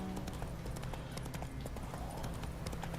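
Horse hooves in The Witcher 3 clip-clop in a steady walking rhythm over a dense, constant background of game ambience. The hoofbeats are moderately loud and continue throughout with no speech.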